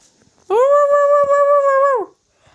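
A dog in the Minecraft video game gives a single sustained, tonal whine-like howl lasting about a second and a half, loud and close, with no talk over it.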